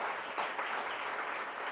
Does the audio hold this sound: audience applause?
yes